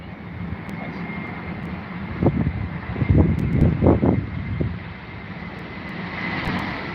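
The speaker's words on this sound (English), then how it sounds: "All the way from Germany, ladies and gents, Lufthansa. Here we go. There we go. Little wobbles we come in" A Lufthansa airliner landing at London Heathrow in gusty wind, a steady distant roar of jet engines swelling briefly louder mid-pass and fading, with wind buffeting the microphone throughout.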